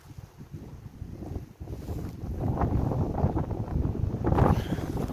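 Strong wind buffets the microphone while cycling past Charles de Gaulle airport during a 300 km bike ride, a steady roaring rush that grows louder and gustier partway through, with no talk.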